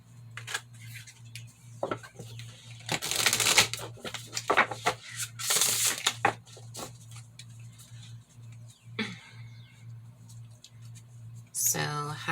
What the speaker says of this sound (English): I'm going to go ahead and shuffle some more oracle cards for you with this gold crown on the back of it.